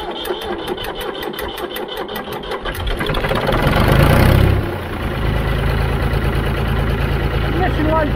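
A Ford 3000 tractor engine runs right after starting, a close rapid mechanical chatter that swells louder in the middle and then settles into a steady idle, with some talk over it.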